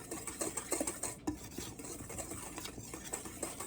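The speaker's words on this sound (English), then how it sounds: "So you're just going to give it a nice good little whisk." Dry pancake ingredients being whisked in a bowl, a rapid close rhythmic scraping and clinking of the whisk against the bowl that continues steadily without speech.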